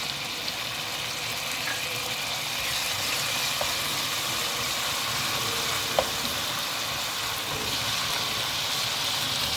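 Onion, ginger and garlic paste sautéing in a pan for chicken biryani, a steady close sizzle with faint occasional clicks of stirring and no talk.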